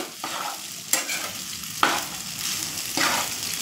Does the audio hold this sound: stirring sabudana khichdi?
yes